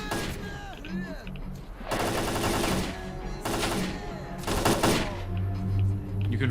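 Automatic gunfire in the S.T.A.L.K.E.R.: Clear Sky video game, heard as loud rapid bursts that come in waves with short pauses between them, over a low background drone.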